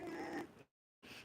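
A pet cat meows during a Thai livestream, a short drawn-out mew that cuts off into silence before another brief sound starts.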